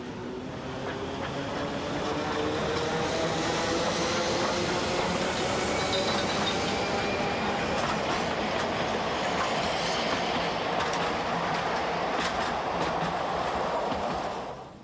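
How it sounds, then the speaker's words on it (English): Narrow-gauge Mariazellerbahn train departing toward St. Pölten, Austria, rolling steadily with continuous wheel rumble and rhythmic clickety-clack over rail joints, a faint squeal at times, loud and close throughout. "Departure takes place on time for the final 12-kilometer stretch to St. Pölten."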